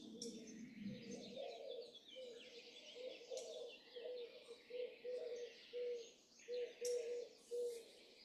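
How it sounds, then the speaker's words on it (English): Birds sing outdoors, with a dove's low coo repeating in a steady rhythm under brighter chirps and twittering calls from several birds nearby. "I just love the sound of the birds here."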